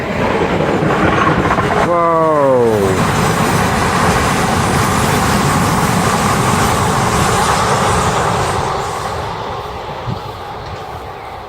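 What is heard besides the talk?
train passing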